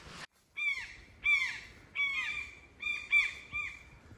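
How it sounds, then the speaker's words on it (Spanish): Crows cawing along a mountain trail on an extinct volcano, a series of harsh, repeated calls in short bursts of two or three, fairly close and clear over quiet surroundings. "Estamos escuchando los sonidos de los pájaros."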